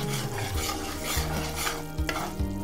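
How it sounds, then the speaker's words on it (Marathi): Melted jaggery syrup bubbles in a pan while being stirred for sesame jaggery laddus, a close, busy sizzle with soft scraping stirs and a few louder clinks of the spoon against the pan. "हा वितळलेला गूळ फक्त 1 ते 2 मिनटं त्याला छान उकळून घ्यायचा आहे."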